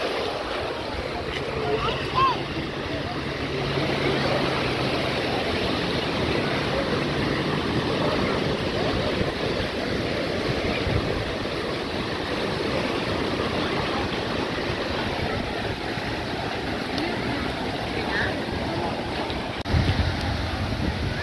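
Steady wind at a beach in Balneário Camboriú rushes and buffets the microphone over a soft wash of surf, a continuous low roar that stays even and fairly loud throughout.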